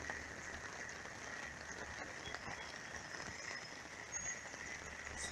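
Heavy rain comes down in a constant broadband wash, steady and close, with faint scattered drips in the mix and no voices.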